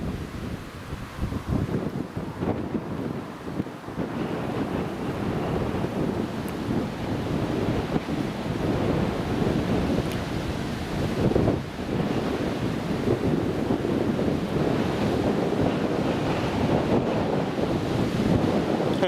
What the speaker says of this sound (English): Yep, it is breezy.